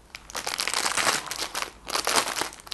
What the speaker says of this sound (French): Du papier bulle.